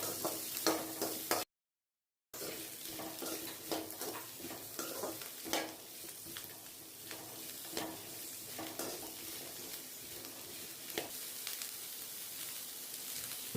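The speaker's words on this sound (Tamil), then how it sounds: "சின்ன வெங்காயத்தை போடுங்க. போட்டு நல்லா வதக்கிட்டு அது கூடவே பெரிய வெங்காயத்தையும் போட்டுருங்க." Small and big onions with curry leaves sauté in a pan, giving a steady sizzle with frequent scraping stirs of a spoon against the pan, close and without talking.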